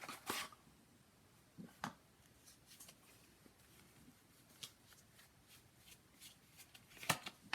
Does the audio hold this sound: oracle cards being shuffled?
yes